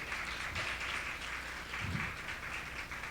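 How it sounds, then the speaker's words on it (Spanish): Audience applause greeting a guest speaker, Elda Nidia Cruz, at a talk on Indigenous women in Mexican history: dense, continuous clapping from a crowd, fairly distant and even throughout. "a quien recibimos con un caluroso aplauso"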